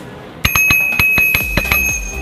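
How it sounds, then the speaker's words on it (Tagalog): A bicycle bell rings rapidly about eight times in quick succession, each bright metallic ding sustaining a clear ringing tone, loud and close with no talking. "Sa top number 2 natin yung bell."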